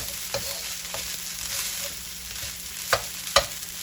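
A spoon stirs turmeric rice in a pot with a steady soft sizzle underneath, and a few light scrapes lead to two sharper metallic clinks near the end, with no voices.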